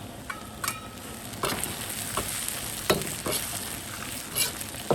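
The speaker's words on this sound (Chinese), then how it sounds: "現在可以加入這些辣椒一起炒" Chili peppers stir-fried in a hot wok for a beef-cheek dish give a steady sizzle, broken by sharp, irregular spatula scrapes and knocks against the metal, close and fairly loud, with no voices.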